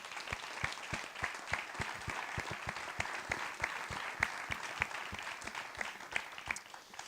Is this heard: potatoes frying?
no